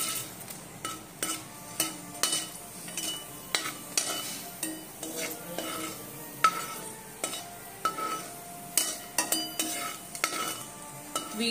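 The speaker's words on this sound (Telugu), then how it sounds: "ఆయిల్ వేడయ్యాక ఒక 5-6 వెండిన మిరపకాయలు దోరగా" Five or six dried red chillies frying in hot oil in a pan, a steady soft sizzle broken by frequent sharp scrapes and clinks of a metal spatula stirring against the pan, close and fairly loud.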